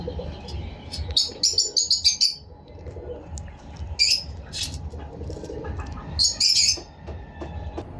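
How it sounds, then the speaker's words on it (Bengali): Sharp, high chirps from lovebirds in a rooftop aviary come in a few bursts over a low steady rumble, fairly close, with short quieter gaps between calls. "এটি হচ্ছে একটি লাভ বার্ডের পেয়ার"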